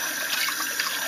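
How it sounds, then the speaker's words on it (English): A kitchen tap runs steadily and close as soybeans are rinsed and swirled under the stream, a continuous hissing flow with no voices. "if you turn on the water low and kind of swirl it around a little bit"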